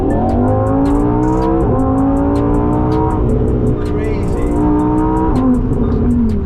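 A Lamborghini Huracán V10 sports car engine revs hard and climbs through its gears, loud and close, with a deep roar and crackle that continues steadily throughout.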